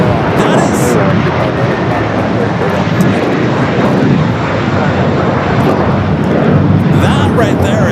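An Air Tahiti Nui Boeing 787 Dreamliner at LAX gives off a loud, steady broadband jet roar that fills the whole span without a break, with voices talking faintly in the background.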